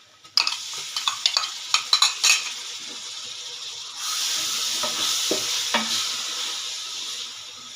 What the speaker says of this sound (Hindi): ये माशाल्लाह मसाला भून रहे हैं।